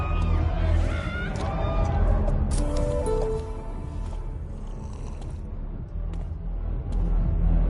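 Crowd murmur from a gathering in the Life is Strange video game, a dense, steady wash of overlapping voices and chatter that stays at an even level throughout.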